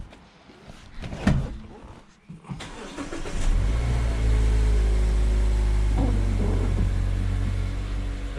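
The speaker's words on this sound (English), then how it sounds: "We're gonna turn the engine on." A Mazda 2 Genki cranks over with a few rough turns, then catches and settles into a steady, loud idle rumble close by.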